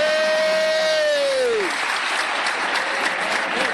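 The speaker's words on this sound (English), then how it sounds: "Can we just give Mr. Thompson a round of applause" Audience at a school leavers' day assembly claps in a sustained burst of applause that fills the hall, steady and dense throughout, with a voice heard briefly near the start.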